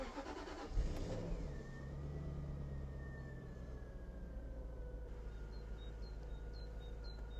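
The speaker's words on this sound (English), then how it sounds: "Let's start the car with the real key." A Jaguar XK8/XKR engine cranks with the key and catches, then settles into a steady running hum, close by, with a faint whine rising over it.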